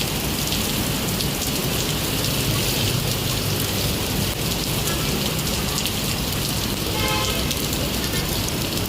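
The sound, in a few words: heavy rain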